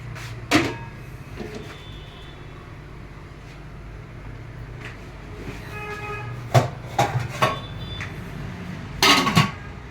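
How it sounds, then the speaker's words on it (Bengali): Metal lid set onto a dekchi cooking pot of biryani, several sharp clanks and scraping knocks of metal on metal spread across a quiet kitchen background, the loudest clatters coming near the end. "ডেকচির ঢাকনাটা দিয়ে মুখটা আটকে দেবো।"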